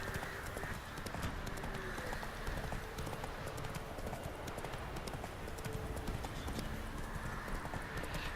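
Geralt's horse Roach gallops in The Witcher 3, a steady rhythmic clip-clop of hooves running continuously over a dense outdoor game ambience, with a brief whinny partway through.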